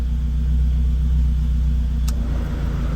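A Saab 900 Turbo idles after being started, a steady close low engine rumble holding even throughout, with one brief sharp click partway through.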